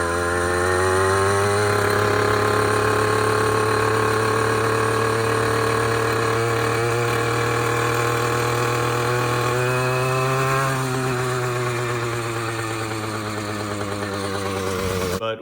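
A Razor 2-stroke dirt bike with an aftermarket exhaust and a retuned carburetor revs loudly and steadily close by, its buzzing drone rising and falling slightly throughout with no talk.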